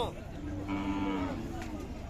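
A cow at a Khillar cattle market lets out a single long, low moo, drawn out over a second, with faint background voices.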